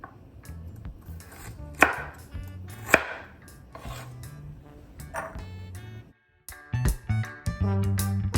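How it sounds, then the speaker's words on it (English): A knife chopping carrots into small pieces for Jamaican-style pumpkin chicken soup, irregular sharp chops on a board, close and clear, with a brief pause near the end before more cutting. "I'm gonna cut them up because I don't like when the carrot is like, you know, big and chunky"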